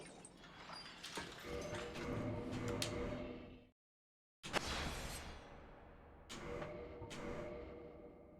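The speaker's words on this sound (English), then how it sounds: "Back up the elevator ride we go." A rumbling mechanical elevator ride in Dark Souls Remastered, steady grinding and clanking that cuts out briefly to silence, then resumes with a few louder knocks.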